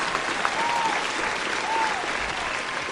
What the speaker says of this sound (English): Let's get a round of applause on that.